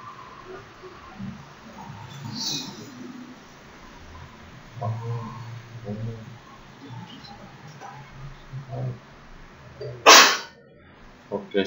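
A single short, sharp sneeze bursts out once near the end, standing clearly above quiet room noise and faint scattered background sounds.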